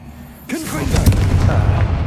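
A Confringo blasting spell from the Hogwarts Legacy video game bursts in at once as a loud boom, followed by a rumbling, crackling tail that keeps sounding to the end, with a low game ambience underneath.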